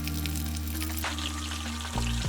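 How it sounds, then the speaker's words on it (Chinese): Red bell peppers deep-frying in a pot of hot vegetable or peanut oil at about 220°F, giving a steady, dense sizzle that runs throughout with no voices, a low hum underneath, and a slight shift near the end. "大约油炸2到3分钟左右"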